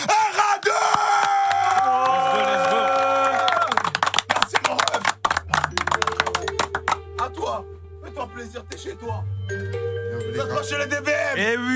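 A live show audience cheers and applauds loudly for a performer, yelling voices and dense clapping at first, then giving way to music and a voice calling out over the crowd.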